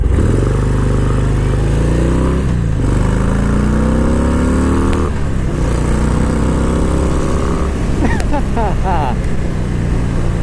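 A 2019 Harley-Davidson FXDR 114 rolls on hard from 10 mph, its loud engine note climbing steeply through several quick gear shifts, with wind rushing over the rider the whole way.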